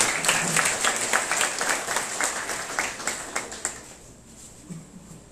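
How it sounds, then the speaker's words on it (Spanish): Applause at a school district science olympiad ceremony: a room of hands clapping steadily, dense and fairly close, then thinning out into scattered claps toward the end. "Le recibimos con un aplauso."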